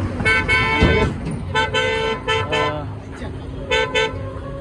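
A car horn gives several short tonal toots in separate bursts while the vehicle is being parked in the summer heat, close and fairly loud over a low engine rumble.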